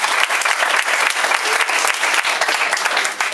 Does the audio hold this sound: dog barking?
no